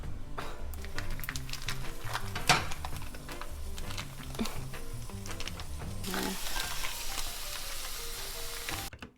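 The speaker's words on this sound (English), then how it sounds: "the pan's not really like hot yet, and therefore the meat will start more boiling than frying" Ground meat for lasagne sizzling and frying in a not-yet-hot pan, a steady crackling hiss with occasional scrapes and taps of stirring, growing brighter toward the end.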